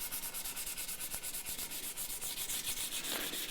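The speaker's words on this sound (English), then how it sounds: "So then we've got the scraping of the super glue to do" Rapid, rhythmic scraping of dried super glue off a Telecaster-style guitar fretboard during a re-fret, quiet and close, with steady back-and-forth strokes and no talking.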